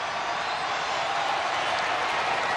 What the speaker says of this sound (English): Crowd energized here in the Robins Center.